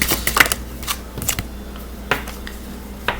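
Tarot cards being shuffled and one drawn, close and crisp: a quick riffle of snapping card edges followed by a few sparse flicks and slides, with no one talking.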